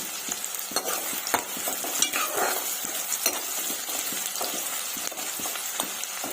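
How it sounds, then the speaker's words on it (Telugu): Thinly sliced onions fry in hot oil for a chicken dish, a steady close sizzle broken by repeated scraping stirs and light utensil clicks, with no one talking. "ఈ ఆనియన్స్ అన్నీ కూడా గోల్డెన్ బ్రౌన్ కలర్ వచ్చేంత వరకు ఫ్రై చేసుకున్నాము."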